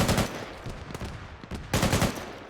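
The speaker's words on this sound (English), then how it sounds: "We're getting engaged by auto cannon in that position." Rapid bursts of autocannon fire in a military video game: two loud volleys of fast repeated shots separated by a brief lull, close and harsh.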